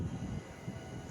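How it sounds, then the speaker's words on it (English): A deep, steady rumbling roar like a passing train, continuous and fairly loud throughout a short stretch with no voices. "Sounds like a train."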